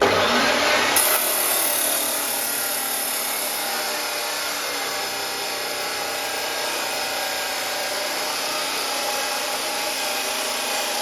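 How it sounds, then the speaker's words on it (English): Steady sawing or grinding through the end of an old cutter bar from a Stihl 880 chainsaw, a loud, continuous harsh metallic rasp that starts abruptly and runs alone without pause. "I'm just about to cut the end off this old cutter bar end"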